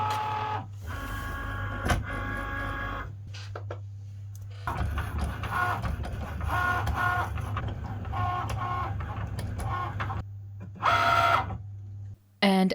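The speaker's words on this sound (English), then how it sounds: "And now we can load it into our machines and cut our faux leather" A Cricut cutting machine slicing faux leather, a steady motorized hum with repeated whirring carriage movements and short mechanical buzzes, close and continuous throughout.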